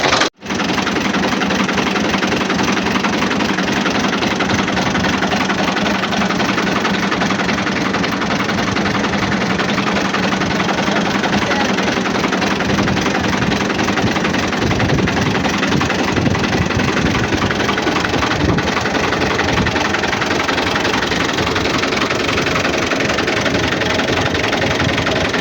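A tractor engine runs steadily for the whole stretch, a loud continuous low rumble with a knocking idle character, close by and with no talk over it.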